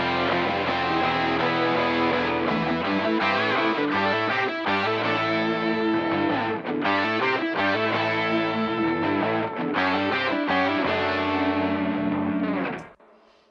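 Dense music mix summed to mono with a distorted parallel bass layer, loud and continuous for roughly twelve seconds, then fading out quickly at the end.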